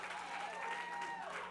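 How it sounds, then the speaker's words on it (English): A crowd of parents applauds graduating students at a promotional ceremony, giving a brief, steady, even patter of clapping heard at a modest distance. "let's give them a huge round of applause"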